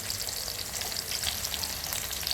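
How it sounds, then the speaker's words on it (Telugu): Garlic, onions, dry chillies and mango ginger fry in a generous amount of oil, making a continuous, moderately quiet sizzle with light crackling and no voices. "తెల్లగడ్డలు, ఎర్రగడ్డలు ఇవన్నీ బాగా ఫ్రై చేసుకోవాలి."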